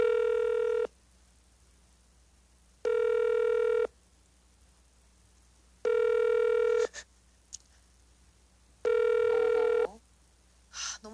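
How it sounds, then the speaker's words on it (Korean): A telephone call rings out, with four long electronic ring bursts separated by pauses. A few faint clicks and short sounds fall between the later rings, and no one speaks. "첫 번째 분에게 전화 갑니다."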